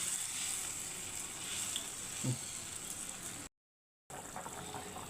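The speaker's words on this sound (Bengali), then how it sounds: "দেখুন আমার ঝোল টকবক করে ফুটছে" A cauliflower and egg curry gravy boils in a pot, giving a steady close hiss of bubbling with a faint thump midway and a brief dropout of silence before the bubbling resumes.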